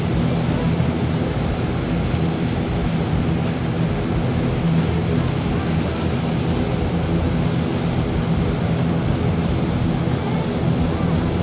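An airliner taxiing to the runway at Queenstown, New Zealand, in Microsoft Flight Simulator gives a steady, loud engine drone with a constant low rumble that holds through the whole stretch without talk.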